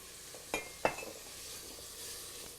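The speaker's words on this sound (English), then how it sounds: "We just stir that around until most of that is absorbed" Wine hits a hot pan with a soft, low sizzle, punctuated by two sharp metallic clinks of a utensil against the pan as it is stirred, fairly quiet and close.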